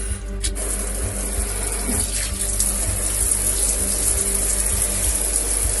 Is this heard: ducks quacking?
no